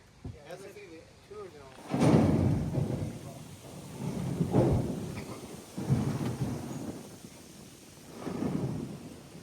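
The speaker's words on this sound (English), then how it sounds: "Got some thunder going on today." Rolling thunder from an outdoor storm, several deep rumbles swelling and fading in waves at moderate distance.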